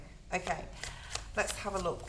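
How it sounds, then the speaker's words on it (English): Tarot cards being shuffled for a reading, a soft papery riffle and slide in short bursts, with a voice talking over it. "So let's shuffle, let's have a look and see what Spirit wants to bring forward today."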